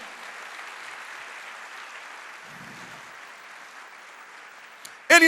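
A church congregation applauds in a steady, distant-sounding wash of clapping that holds evenly for several seconds before a sudden louder sound cuts in at the very end.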